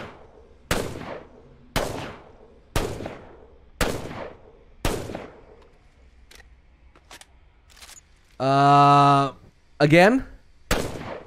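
Mastiff shotgun fire in Apex Legends, a series of six heavy booming shots spaced about a second apart, then a brief buzzing tone and two more blasts, with one short spoken word.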